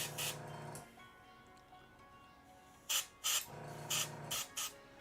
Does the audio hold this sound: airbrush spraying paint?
yes